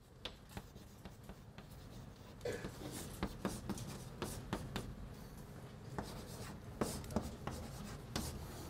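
Chalk or marker strokes on a board during a calculus lecture: a steady series of short scratches and taps as a formula is written, with faint room noise and no talk.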